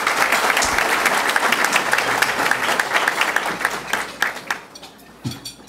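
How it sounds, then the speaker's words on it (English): A crowd applauding with dense, sustained clapping that thins out toward the end into a few scattered claps. "How about a round of applause for Miss Pendleton?"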